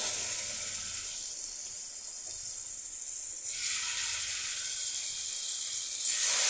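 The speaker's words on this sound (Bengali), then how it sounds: "গরম হয়ে গিয়েছে, তো এখন আমি মাংসটা এখানে দিয়ে দেবো।" Meat dropped into a hot pan sizzles with a steady, soft hiss that swells and fades slightly over several seconds, with no talking.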